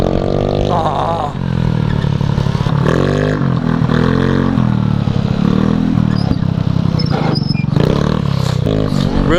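A two-stroke Honda Elite moped engine revs loudly and close by, rising and falling in pitch with rattling and clatter, continuous throughout.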